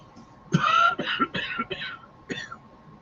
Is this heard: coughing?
yes